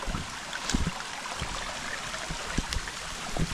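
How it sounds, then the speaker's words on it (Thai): A small waterfall in an overgrown forest keeps up a steady, even rush of falling water, with a few faint knocks and rustles near the start and end. "เจอกับน้ำตกอีกแล้วครับ"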